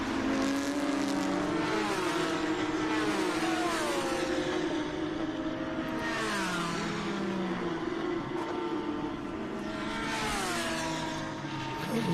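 Race cars roar past on a road circuit during a Trans Am and IGT race weekend at VIR, a Lamborghini among them, engines rising and falling in pitch as several pass one after another, loud and close.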